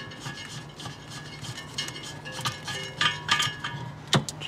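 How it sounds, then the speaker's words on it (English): Black dial on a gas bottle being unscrewed by hand, small rubbing and ticking plastic-on-metal sounds in short irregular bursts, quiet and close. "You simply just unscrew it so it's clockwise."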